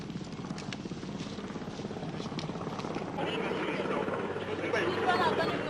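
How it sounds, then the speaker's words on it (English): A military helicopter's rotor thumps steadily and grows louder as it nears a landing space cleared by soldiers during the 1977 Rhodesian Bush War, with faint voices in the background. "the soldiers are making a space for the helicopters to land"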